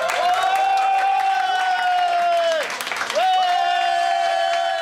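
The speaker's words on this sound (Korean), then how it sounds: "붉은 유니폼을 입은 시민들은 커다란 함성과 함께 한마음으로 대표팀 선수들을" Fans in red jerseys packed into a Busan bar roar for the South Korean national football team in front of a big screen, a loud, sustained crowd chant with drawn-out sung tones that dip briefly before surging back.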